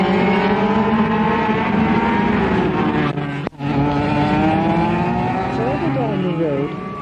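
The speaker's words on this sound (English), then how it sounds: "the roar of miniature petrol engines taking part in an international go-kart Grand Prix" Miniature petrol engines roar at an international go-kart Grand Prix in Hong Kong, a dense, continuous buzzing drone of several karts that holds loud throughout, with one brief dropout midway.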